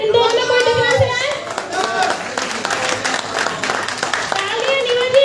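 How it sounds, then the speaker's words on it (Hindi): An audience claps during a women's health awareness presentation, a dense burst of hand claps running beneath and between voices, with someone speaking over the applause near the start and end. "तालियां नीवा जी"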